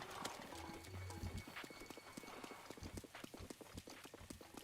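A horse clip-clops along in The Legend of Zelda: Breath of the Wild, its hooves striking in a quick, steady rhythm with a brief whinny near the start, faint under game ambience.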